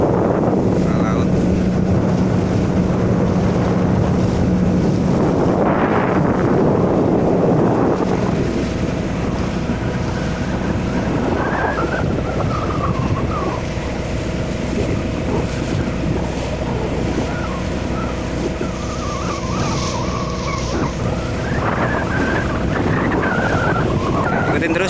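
A boat crossing the open sea in the Sunda Strait, with strong steady wind buffeting the microphone over a continuous engine drone and wash of waves; a person speaks briefly near the start.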